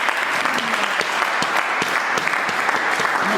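A standing audience at a student gathering in Minembwe, South Kivu, claps loudly in steady dense applause, a continuous roar of hands with occasional sharper claps and faint voices mixed in.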